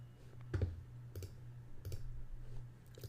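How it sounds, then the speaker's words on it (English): A computer mouse button clicks several times, short quiet ticks spaced irregularly over a low steady hum. No voices. "you do it by clicking this button."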